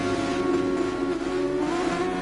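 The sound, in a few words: F1 race car engines revving before start, racing video game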